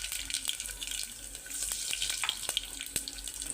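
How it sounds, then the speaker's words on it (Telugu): Tempering spices dropped into hot oil in a pressure cooker for a broccoli-cabbage side dish, a close, steady sizzle and crackle with sharp pops scattered throughout. "ఇందులోకి మనము ముందుగా పోపు దినుసులు వేసేసుకుందాం"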